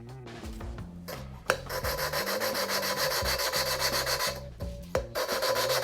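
Oiled valve being lapped into a Chevy 350 Vortec cylinder head with compound going from coarse to fine, a steady rasping, rubbing grind in quick back-and-forth strokes, close and continuous with a few brief pauses.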